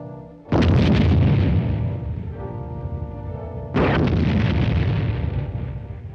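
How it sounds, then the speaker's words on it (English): Demolition charges blow up a roadblock in two loud, close blasts a few seconds apart, each one trailing off in a long rumbling roar. "or blow up a roadblock"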